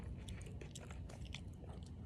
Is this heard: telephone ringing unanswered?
no